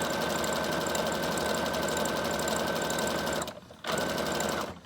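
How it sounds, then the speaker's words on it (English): Sewing machine sewing zigzag stitches on a handmade junk journal, a steady fast mechanical whir that runs continuously, briefly stops for a moment, then starts up again, close and alone. "then turn it to a zigzag, flip it, and then just go right back straight the other way"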